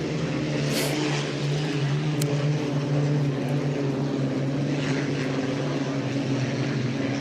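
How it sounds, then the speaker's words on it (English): A Rolls-Royce Griffon piston aero engine in a vintage hydroplane roars in a loud, steady, throbbing drone that holds constant for the whole stretch. "that big Rolls-Royce Griffin makes an awful lot of noise"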